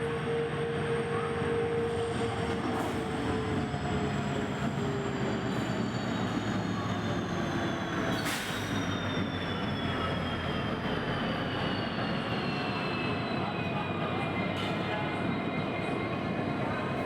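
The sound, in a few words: Pamban Express train running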